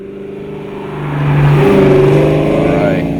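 A 2000 Mustang GT V8 fitted with an Airaid intake, Flowmaster cat-back exhaust and SR springs, droning steadily through a right-hand turn, with the engine note swelling louder and rising in pitch midway, close and alone.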